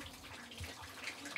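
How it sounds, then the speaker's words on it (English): Meltwater runs near Arctic ice cliffs as Siberia's permafrost thaws, a steady, fairly faint trickling and splashing flow without a break, with a couple of brighter splashes near the end. "the sound of running water soon makes it clear"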